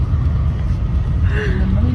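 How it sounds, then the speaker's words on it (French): Inside a city bus heading to the centre, a low continuous engine and road rumble fills the cabin, with faint voices beneath. "on est dans le bus pour rejoindre le centre"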